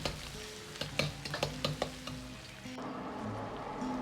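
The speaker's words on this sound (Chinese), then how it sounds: "煸炒出香味。" Scallion, ginger and garlic are stir-fried in a wok with lard, dried chilies and red Sichuan peppercorns. Close, bright sizzling carries throughout, broken by repeated scraping stirs of the spatula, with no talk.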